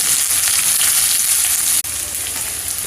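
Onion hitting hot oil with mustard seeds, cumin, turmeric and red chili powder in a kadhai, a loud steady sizzle filling the clip with one brief drop in the middle, no voices.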